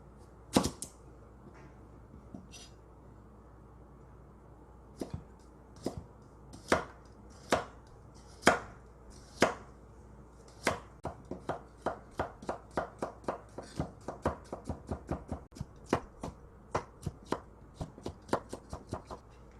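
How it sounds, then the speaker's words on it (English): A knife slicing green onion and leeks on a cutting board, sharp crisp chops that are sparse at first and then quicken into a rapid, even run of close cuts, with no voices. "Now I'm going to slice some vegetable together with kimchi."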